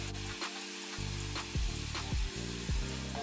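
Soy sauce and oyster sauce sizzle as they hit fried rice in a hot pan for a home-made hibachi dinner, a steady close frying hiss with a few low thuds and scrapes of stirring.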